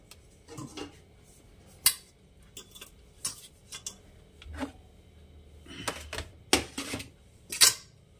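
A metal kadai set down on a kitchen stove, giving sharp clanks and scrapes with a few louder knocks among the quieter clatter, close by and with no talk.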